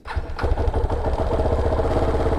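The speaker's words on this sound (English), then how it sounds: "All right, so fired up. This is stock exhaust." A used 2014 KTM Duke 690 motorcycle with its stock exhaust starts up, then settles into a loud, close, lumpy single-cylinder idle with steady rapid pulses.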